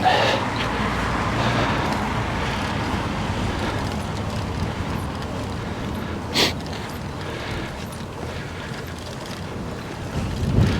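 Steady, loud wind roars across the microphone of a single-speed bicycle climbing uphill, a continuous rushing buffet that lasts the whole stretch, with one brief sharper gust or knock partway through and no talk.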